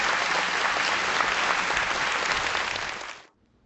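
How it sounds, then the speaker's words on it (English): An audience at a book premiere applauds in a dense, steady burst of many hands that holds for about three seconds, then cuts off abruptly into near silence. "Give him, please, another round of applause."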